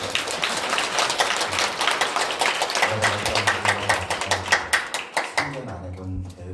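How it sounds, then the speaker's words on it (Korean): A church congregation claps during a Sunday service after the pastor is introduced: sustained, crisp hand clapping that grows into sharper individual claps, with speech and low tones underneath. "박수 한번 쳐주세요."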